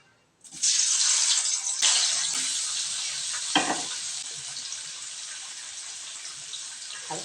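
Paneer drops into hot white cooking oil and bursts into a loud, close sizzle that starts suddenly and then holds steady, fading only slightly as it carries on alone.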